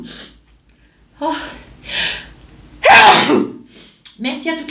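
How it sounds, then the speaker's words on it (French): A single loud, close sneeze bursts out after a few breathy inhales, followed by a short sniff and some breathing. "j'ai envie d'éternuer."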